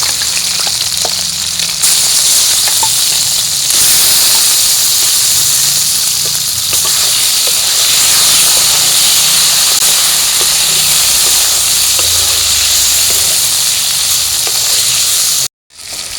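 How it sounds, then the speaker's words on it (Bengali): Turmeric-marinated kuche fish sizzles loudly in hot oil, a dense, continuous hiss and crackle that holds steady throughout before cutting off abruptly near the end. "আর হলুদ দিয়ে যেই মাছটা ম্যারিনেট করে রেখেছিলাম, এই মাছটা কিন্তু আমি দিয়ে ভেজে নিচ্ছি"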